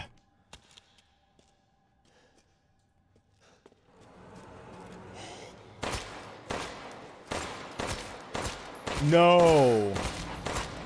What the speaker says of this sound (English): The shotgun is shooting a little slow.